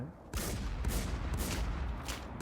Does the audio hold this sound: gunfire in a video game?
yes